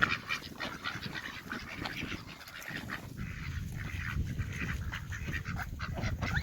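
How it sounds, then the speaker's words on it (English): Mallard ducks quacking and honking in a busy flock as they scramble for peas and come in to land, steady noisy calls close by with splashes mixed in and no speech. "Mallard coming in for the landing."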